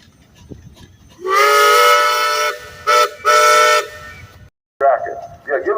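An 1899 straw-burning steam traction engine at a parade show blows its steam whistle loudly: one long blast, then a quick short toot and another medium blast, followed by crowd voices.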